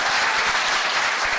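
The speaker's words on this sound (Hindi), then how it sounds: "ताली जोरदार वाली बजाइए" An event audience claps loudly and steadily, a dense, continuous wash of applause filling the room without pause.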